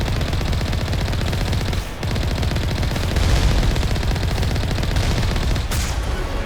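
Continuous rapid automatic gunfire from a turret in the Mass Effect video game, a dense loud rattling barrage with no pauses, without talk.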